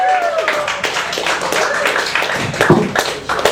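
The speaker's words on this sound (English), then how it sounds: "Can we get a big round of applause?" An open-mic comedy audience claps for a comedian taking the stage, a loose, uneven patter of hands with crowd murmur underneath, steady throughout and peaking near the end.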